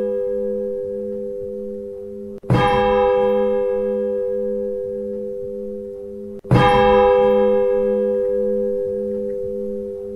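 Two loud strikes of a virtual church bell in the Roblox Odenthal eight-bell game, each leaving a long, bright, ringing hum that slowly decays, over a steady tonal drone and a soft pulsing beat.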